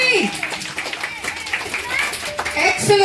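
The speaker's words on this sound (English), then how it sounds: "Can you clap?" A class of schoolchildren claps loudly together at an international school, the scattered hand claps mixing with children's voices and chatter throughout.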